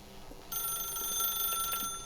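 A telephone rings in the video game The Stanley Parable, a bright, electronic trilling tone that starts after a short pause and sustains for about a second and a half at moderate volume.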